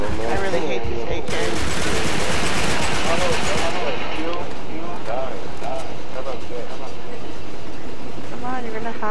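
AK rifle fire in the game Uncharted 3, rapid bursts of loud automatic shots at the start, then scattered gunfire and effects under a talking voice.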